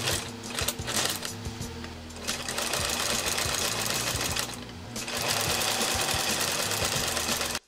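Sewing machine stitching leather patchwork jeans, a steady close, loud motor whir with continuous rapid needle chatter that runs nearly unbroken before stopping abruptly at the end.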